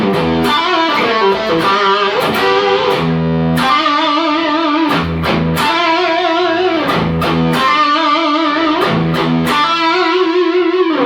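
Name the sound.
electric guitar with gritty distortion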